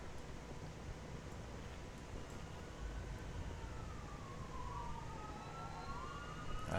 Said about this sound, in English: Sirens outside my window.